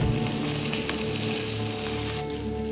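Rice frying in hot oil in a pan, a close, dense and steady sizzle with crackling that carries on without pause.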